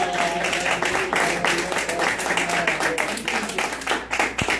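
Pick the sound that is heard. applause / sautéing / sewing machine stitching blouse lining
applause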